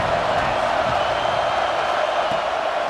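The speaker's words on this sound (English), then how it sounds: "Here comes the noise from this big crowd in Happy Valley on 3rd down." A big stadium crowd in Happy Valley in EA Sports College Football 26 roars as a steady, loud wash of noise on third down, with no distinct voices rising above it.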